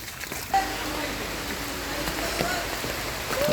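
Rain falls steadily all around on flooded roads in Raipur, Lakshmipur, Bangladesh, a continuous close patter and hiss with a few sharper drips standing out.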